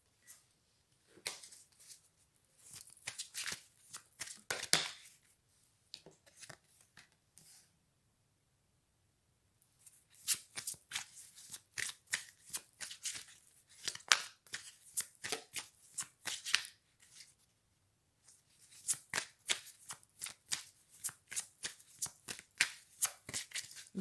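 A deck of oracle cards being shuffled by hand in repeated bursts of riffling and sliding, with short pauses between rounds, close and fairly quiet.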